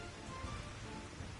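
Steady rain falls in Final Fantasy XIV, a constant, faint hiss with no voices over it.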